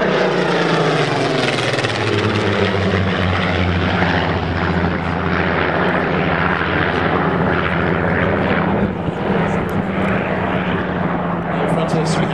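A Spitfire's piston aero engine roars at the Duxford Flying Legends air show, a loud, steady, rumbling propeller drone that holds at full strength throughout.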